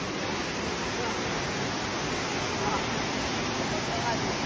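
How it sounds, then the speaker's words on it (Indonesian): Steady rushing of a stream flowing toward a tall waterfall in Aceh Besar, a broad constant wash of noise close by with no pauses. "Begitulah air mengalir ya, sampai ke air terjun yang tinggi yang tadi kita lihat."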